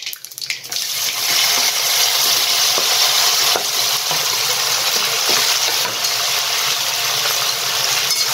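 Bottle gourd muthiya hit hot oil tempered with mustard seeds, carom, sesame, cumin and asafoetida, setting off a loud, dense, continuous sizzle that rises sharply after a brief stir and holds steady, with occasional faint clinks of a spoon.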